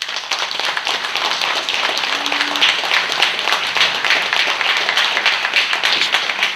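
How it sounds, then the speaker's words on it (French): An audience at an evening celebration applauds steadily, a dense, even wash of clapping that holds for several seconds without talk. "je voudrais que vous l'applaudissiez"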